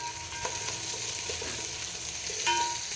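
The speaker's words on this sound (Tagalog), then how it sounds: "Igigisa natin yung karne bago natin sasabuan ang papaitan para tuluyang mawala ang ang lansa" Meat sautés in a pan for Ilokano papaitan stew, a close, steady, bright sizzle with faint stirring clicks throughout.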